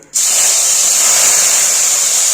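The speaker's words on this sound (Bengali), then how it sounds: "তো কড়াইয়ে তেল গরম হয়ে গেছে, এবারে পুঁটি মাছগুলো ছেড়ে দেবো।" Small puti fish dropped into hot oil in a wok erupt into a loud, sustained hiss that starts abruptly and stays strong and even, close up with no talking.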